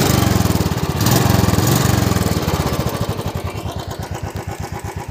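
An unmodified second-hand Royal Enfield Classic 350 in good condition, about 25,000 km run, idles with a loud, close, steady thumping beat that settles into clearly spaced, even pulses.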